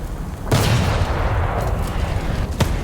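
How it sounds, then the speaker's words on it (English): Artillery fire in the War Thunder tank game: two loud, heavy blasts about two seconds apart, the first rolling into a long rumbling tail over steady battlefield noise. "That's artillery fire."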